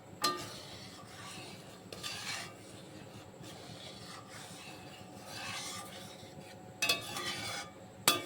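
A spoon scrapes and stirs a kulfi mixture with grated almonds in a pan, making repeated raspy scraping strokes over a low, steady background sizzle, with no voices.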